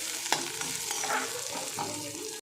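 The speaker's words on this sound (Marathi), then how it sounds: "आता याच्यामध्ये ना कांदा घालून घेते कांदा चांगला परतून घ्यायचे" Chopped onion frying in a pan after ginger and garlic, with a steady close sizzle and a few light stirring scrapes.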